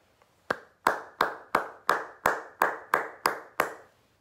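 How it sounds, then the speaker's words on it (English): Claps from a school convocation honouring two teachers come as about ten evenly spaced, sharp hand claps in a steady rhythm, close and clear, with no crowd or voices around them. "Please join me in giving these two beloved teachers a round of applause"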